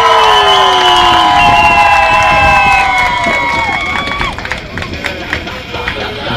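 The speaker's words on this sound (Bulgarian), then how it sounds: "Сега вашите аплодисменти за Димо Бандита" A live crowd at a stage event cheers, shouts and whistles loudly for Dimo Bandita of Riders Bulgaria. High voices rise and fall over dense, steady crowd noise, with some scattered clapping.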